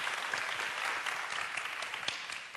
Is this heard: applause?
yes